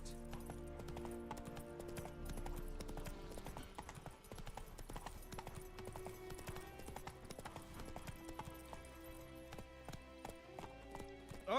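Horse hooves in The Witcher 3 clip-clop in a steady galloping rhythm, quiet and continuous beneath game music and ambience.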